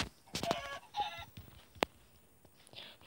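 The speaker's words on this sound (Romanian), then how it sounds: "Un familion de găini." Chickens cluck and squawk in short bursts at a moderate distance, with a sharp sudden cry partway through and quiet gaps between.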